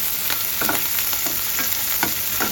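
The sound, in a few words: ginger and coriander frying in a pan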